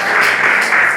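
A church congregation applauding during a Pentecostal sermon, a loud, dense burst of clapping with slight swells, close and filling the room.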